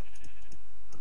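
Sheep bleating in a video game, a few short loud bleats in quick succession up close, with faint keyboard tapping in the background.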